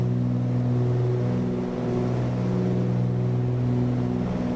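Cessna 310R twin piston engines at climb power in Microsoft Flight Simulator, a steady loud droning hum with stable harmonic tones, continuous and alone with no talk.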